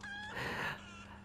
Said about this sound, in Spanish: Gracias, pinche gallina.